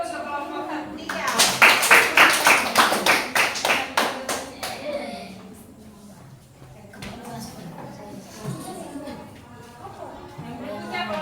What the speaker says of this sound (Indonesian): Oke, tepuk tangan dulu untuk kelompok 3.